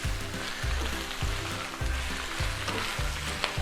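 Fresh spinach frying in a hot pan with a little salt, a loud steady sizzle broken by six regular scraping stirs, close up, no voices.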